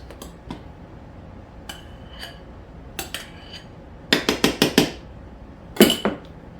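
Egg whites mixed with other ingredients in a bowl for a keto egg bake; sparse soft taps, then a quick run of five sharp utensil-on-bowl clinks and another short cluster near the end.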